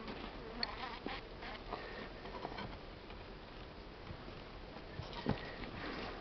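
A dense, low buzzing of many honey bees close by in a hive at minus 13 degrees, with occasional soft taps and bumps, fairly quiet and continuous.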